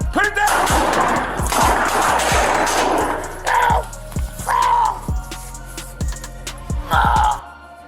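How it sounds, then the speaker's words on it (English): A police officer and a suspect exchange gunfire, a rapid series of loud, sharp shots fired close together in bursts, with brief gaps and shouting voices between volleys. "within moments, both men unleash gunfire"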